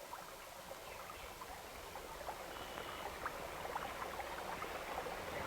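Stream water flowing along a nature trail, a soft, steady broadband rush with faint trickles and gurgles, distant and gentle, alone without voices.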